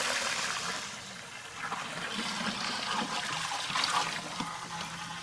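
Rinse water is poured out of a container of new aquarium sand substrate, a sloshing, splashing pour that swells and eases over several seconds, close by with no talking.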